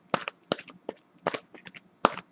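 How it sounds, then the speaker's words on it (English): Tarot cards are shuffled in several quick, crisp riffling bursts spaced about half a second apart, close and clear against near silence. "Me shuffling the cards."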